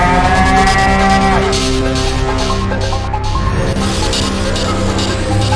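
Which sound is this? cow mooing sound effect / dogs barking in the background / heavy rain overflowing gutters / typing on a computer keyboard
cow mooing sound effect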